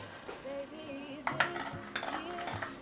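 Coffee maker parts being washed by hand in a home coffee corner: scattered clinks and knocks of utensils and dishware against each other, intermittent and close, over a faint background tone.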